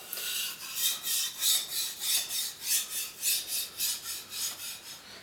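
A single bevel Japanese kataba knife is stroked across a whetstone in steady, even rasping passes, about two per second, close up and alone with no talk, each stroke swelling and fading in a regular rhythm.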